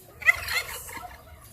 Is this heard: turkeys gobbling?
yes